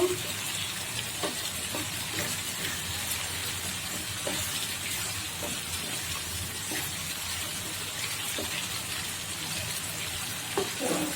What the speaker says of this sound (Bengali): কলিজাটা দিয়ে আমি একটু কিছু সময় কষিয়ে নিব।